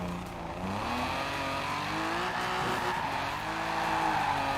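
In a racing video game, a drift car's tires squeal while the engine revs hard in a high gear, with the wheels spinning; the whine rises and falls under a steady, loud engine roar.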